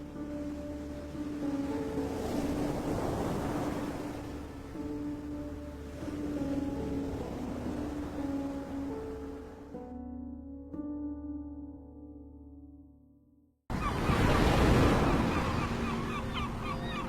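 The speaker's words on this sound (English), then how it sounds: "The sound of the ferry cutting through the waves carries you across the strait towards Sandoy" A ferry crossing the strait toward Sandoy in the Faroe Islands churns through ocean waves, a broad rushing wash under a steady engine hum, briefly dropping out before surging back loudly.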